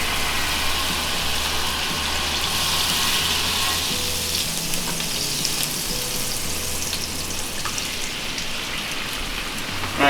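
Scrambled eggs sizzle and crackle steadily in a frying pan beside cauliflower fried rice, a dense, continuous hiss with a low background hum and no talking.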